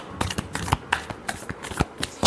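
Tarot cards being shuffled by hand during a Scorpio love reading, a rapid run of crisp riffling flicks and slaps at close range with no talk over them.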